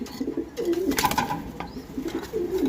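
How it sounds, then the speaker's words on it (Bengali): A pair of Red Danish pigeons of Pakistani bloodline at a pigeon market gives low, repeated throaty coos close by, with steady background noise throughout. "আপনারা দেখতে পাচ্ছেন এক পেয়ার রেড ড্যানিশ যা পাকিস্তানি ব্লাড লাইনের"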